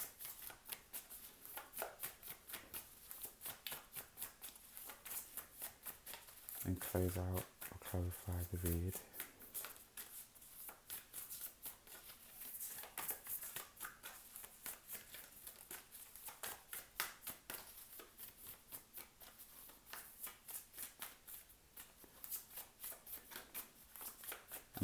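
Tarot cards are shuffled by hand in rapid riffling bursts that continue throughout, with a brief louder shuffle midway, heard close and under a person talking.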